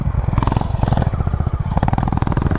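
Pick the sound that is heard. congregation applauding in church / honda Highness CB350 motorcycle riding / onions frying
honda Highness CB350 motorcycle riding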